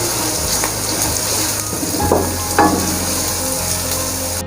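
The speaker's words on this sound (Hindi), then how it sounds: "लहसुन और अदरक का पेस्ट पक चुका है," Ginger-garlic paste sizzles and spatters steadily in a hot pan up close, with occasional scrapes and stirs over the constant frying hiss.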